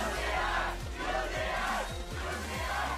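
A crowd at the League of Legends All-Star 2017 esports finals cheers and shouts loudly for a few seconds, a dense, sustained roar of many voices.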